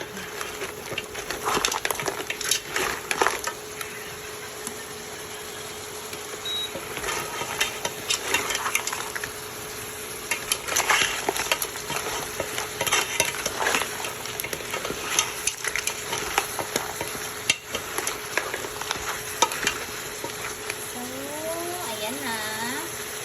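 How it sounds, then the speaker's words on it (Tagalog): Large shrimp sautéing in simmering butter in a pan, a steady close sizzle with stirring scrapes and clinks throughout, a voice talking over parts of it. "So, medyo nag-simmer na siya sa butter. Ilagay na natin yung ating shrimp."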